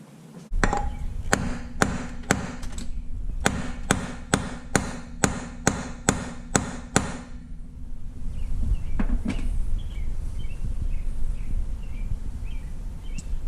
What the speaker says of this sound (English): I'm going to hammer a little bit more